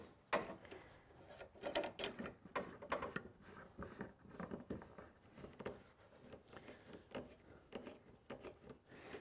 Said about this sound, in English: I'm going to put a clamp on the top just to help hold that down